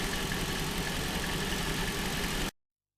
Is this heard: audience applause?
no